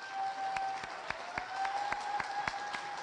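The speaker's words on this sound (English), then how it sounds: "I'd like to give a round of applause" Scattered clapping from an audience at an Illinois legislative event, a sparse round of applause of individual claps, moderately faint and steady for a few seconds.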